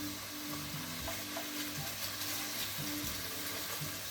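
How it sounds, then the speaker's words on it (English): Beef steak pieces fry in oil in a hot pan in batches, giving a steady soft sizzle with brief scraping stirs and small pops, quiet and close. "start heating your steak up in batches"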